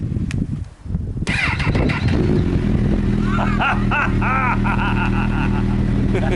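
A Honda CB1000R motorcycle with a hot-start fault fires up and revs, its engine settling into a loud, steady drone with rising, warbling pitch sweeps as it pulls away close by.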